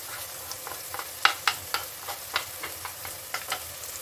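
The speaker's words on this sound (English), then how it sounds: "I'm just going to fry the spice masala along with the tomatoes and the onions." Spice masala of coriander, cumin, mutton masala and fennel powders frying with tomatoes and onions for Chettinad mutton masala, a soft steady sizzle broken by frequent scraping clicks of a spoon stirring the pan, with no voices.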